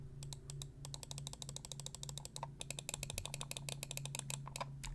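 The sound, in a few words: Gamesense META mouse left and right clicks, Kailh 4.0 switches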